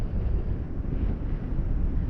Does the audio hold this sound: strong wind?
yes